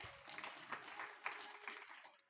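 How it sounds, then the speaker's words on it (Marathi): An audience at a Shiva Mahapuran religious discourse clapping together: a faint, distant, dense patter of applause lasting a couple of seconds. "वाजवा एकदा टाळ्या."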